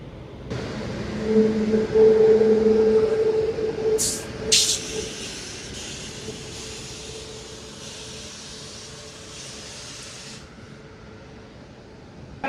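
Ernakulam–KSR Bengaluru Intercity Express pulling into platform 7 at a Palakkad station in the monsoon, with a low tonal hum, steady rumble and hiss, and a couple of sharp squeals midway before the noise gradually fades.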